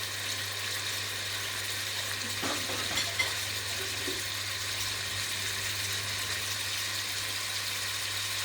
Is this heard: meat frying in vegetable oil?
yes